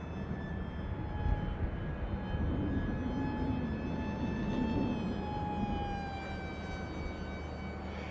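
An Esky Eagle 1100mm RC trainer airplane cruises at half throttle, its electric motor holding a steady, moderately loud whine whose pitch sags slightly as it passes overhead outdoors.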